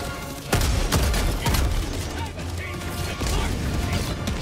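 Rapid heavy bursts of autocannon fire thump in quick succession amid video game explosions and clatter, loud and close.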